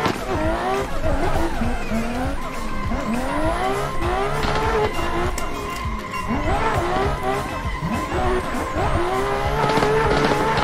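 A drifting race car in Assetto Corsa from a pro drift car pack on a competition track, its engine revving and rising repeatedly while tires squeal continuously, loud and close for the whole stretch.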